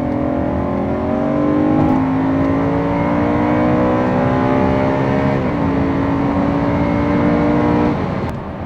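BMW E92 M3 with a naturally aspirated, individual-throttle V8 revving hard under acceleration, its rising engine note climbing steadily and loud throughout with a brief shift dip near the end.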